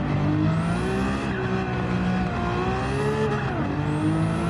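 Race car in a sim racing game running over a trackside curb, engine droning steadily with rising and falling revs and tire noise, loud and continuous with no talk.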